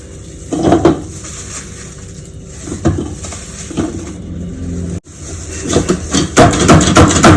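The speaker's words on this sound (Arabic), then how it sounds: "هعمل بقى البصل بتاعي اهو، انا مخرطاه علشان افرمه في الكبه" An electric food grinder mincing grated onion for grilled kofta, giving loud bursts of motor whir and clattering that start and stop several times, with short pauses between runs.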